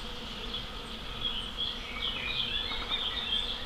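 Bees buzz steadily around a nest inside a church, a continuous, dense drone of many insects with slight swells in intensity and no voices.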